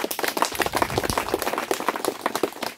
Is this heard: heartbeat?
no